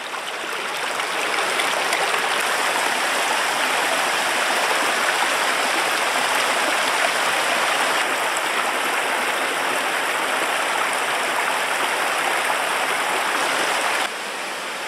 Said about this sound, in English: So we just crossed the stream over here.